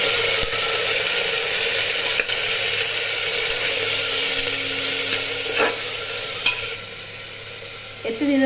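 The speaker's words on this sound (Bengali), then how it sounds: "আদা রসুন ভেজে নিয়ে এখানে যে বোনলেস চিকেন নিয়েছি এটা দিয়ে দেবো" Boneless chicken frying with ginger and garlic in a pan, a loud continuous sizzle with scraping stirs and a few sharp utensil clicks, growing slightly quieter toward the end, no voices.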